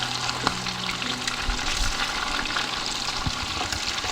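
Chicken sizzling as it fries in coconut oil, a steady close crackle with occasional stirring and spoon knocks, no talking.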